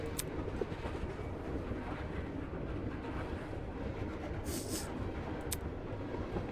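Train rolling through mountains, a steady low rumble of wheels and carriage noise that stays constant throughout, with a few brief higher-pitched squeaks and clicks.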